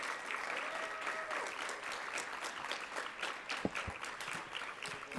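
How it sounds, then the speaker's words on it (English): An awards ceremony audience applauds with dense, sustained clapping from many hands, moderately distant and steady for the whole stretch, with a few sharper individual claps near the end. "Let us give them a round of applause."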